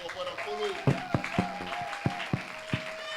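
A church congregation claps at a ministry confirmation service, a few loud distinct claps ringing over voices and singing, with sustained tones beneath.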